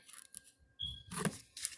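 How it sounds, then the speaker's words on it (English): Tarot cards from a Witch's Tarot deck being shuffled, giving brief papery riffling and slapping bursts in a few separate clusters, close and moderately loud, with no talking. "shuffling here, getting another message from Witch's Tarot"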